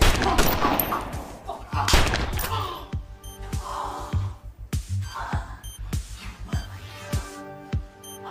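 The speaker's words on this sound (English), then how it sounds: "those gunshots, they sound like they came from 2 different guns" Gunfire from two different guns in a film scene: a rapid fusillade of loud cracks at the start, followed by scattered single shots and sharp thuds spaced irregularly through the rest, with no talking.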